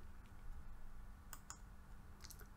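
Mouse clicks while opening the File menu in GIMP: a few faint, sharp clicks in two small clusters over a low steady hum, with no talking.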